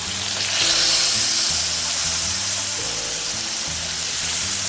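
A steak sears in a pan with compound butter, giving a loud, close, continuous sizzle and hiss. A low tonal hum rises and falls underneath it.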